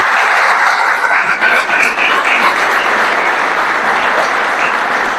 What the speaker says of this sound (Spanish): yo sí le quiero pedir un fuerte aplauso a estos precursores.